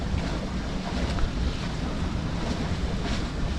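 Roughly 20-knot wind buffeting a sailboat at sea, a loud, continuous roar of gusts across the microphone mixed with rushing water and waves against the hull, unbroken and close.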